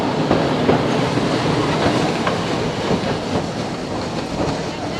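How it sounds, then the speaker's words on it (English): A tram rolls along the track at a tramway village museum, giving a steady rumble with rhythmic clicking of wheels on rail, fairly close and continuous throughout. "My favourite part was going on the tram."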